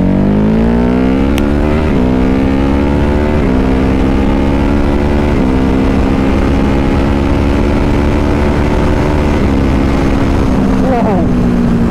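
A 2022 Ducati HyperMotard 950 SP motorcycle accelerates hard through several gear changes, each a rising engine note with a brief dip, loud and close over heavy wind rush.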